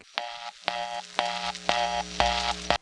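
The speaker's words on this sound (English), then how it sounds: "only a number one step can have a reorder that sounds like that." A harsh, buzzy telephone reorder tone from a number one step-by-step switch pulses in quick, even bursts, about six in a row with short gaps between, clear and alone on the line.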